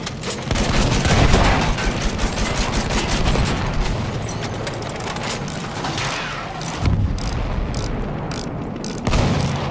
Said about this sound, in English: Enemy artillery!